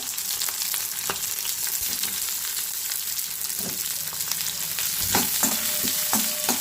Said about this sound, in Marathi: आता त्याच्यामध्ये मी कांदा घालून घेणार आहे